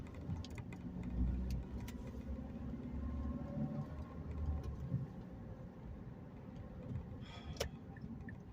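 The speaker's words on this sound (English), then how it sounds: "To 2500, there we go, 2500 RPM, shift into second gear." A manual car pulls away after shifting into second gear at 2500 RPM during a stick-shift driving lesson, a steady low engine drone with cabin rumble and no talking.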